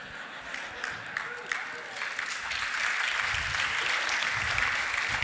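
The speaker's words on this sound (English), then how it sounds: "That's applause for Tim, thank you." Steady applause from an audience at a science talk at the Bluedot festival, a dense wash of clapping that swells slightly and holds for several seconds.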